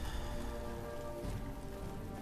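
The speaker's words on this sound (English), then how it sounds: "it's raining" Rainfall in the video game Fallout at the Mojave Outpost, a quiet, even patter spread across the whole stretch, with a faint steady tonal hum beneath it.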